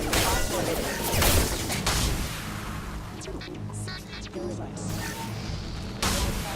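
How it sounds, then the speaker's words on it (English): Video game gunfire as a captain shoots his own crew, dense overlapping bursts and booms in a continuous loud barrage, with scattered voices under the shooting. "He's gunning down his own crew to keep control?"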